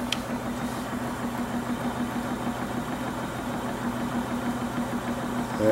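A homemade U-core generator rotor spins steadily at about 400 RPM, giving a continuous low mechanical hum with a faint rhythmic pulsing, close and fairly loud, with no voices.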